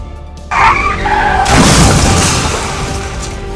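A speeding motorbike crashes into a wall: a sudden loud impact, then a second, heavier crash burst with crunching and scraping noise that slowly fades over a few seconds.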